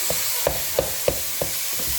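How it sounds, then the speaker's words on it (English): Ground meat frying in a small amount of oil, a continuous close sizzle broken by regular soft scraping stir strokes about every third of a second. "you have to fry this grounded meat like so"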